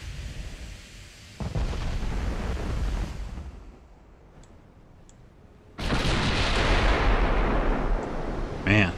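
Heavy 18-inch guns on a German battleship boom in a naval battle game, with deep rumbling blasts and a long roaring salvo near the end.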